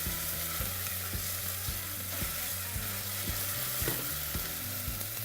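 Onions sweat in a pan for risotto, giving a steady, close sizzle with regular scraping knocks from a utensil stirring them. The stirring clicks come at a fairly even rhythm, and no one speaks.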